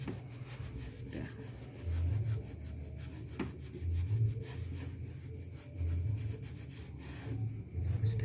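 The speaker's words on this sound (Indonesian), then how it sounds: "nanti gosok terus sampai kering" Steady rubbing of an item until it is dry, repeated close scrubbing strokes with low thumping pulses every couple of seconds, continuous and fairly loud.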